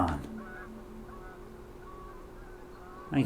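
Geese honk in the video game A Winding Path: a few nasal calls rise over a low steady background hum, with a louder burst at the close.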